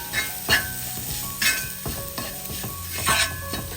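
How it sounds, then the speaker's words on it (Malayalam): A spoon stirs coriander and garam masala powders in a hot pan for a chickpea curry, with repeated scraping clinks against the metal over a low sizzle. "ഈ പൊടികളുടെ പച്ചമണം മാറി കിട്ടുന്നവരെ ഒരു 20 സെക്കൻഡ് ഒന്ന് ഇളക്കി കൊടുക്കാം"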